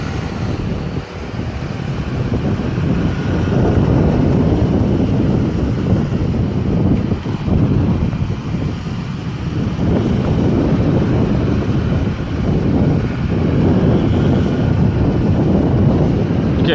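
Yamaha Freego scooter ridden with the throttle open, giving a loud continuous engine drone mixed with heavy wind rush close to the microphone, rising and falling slightly as speed changes, with no talk.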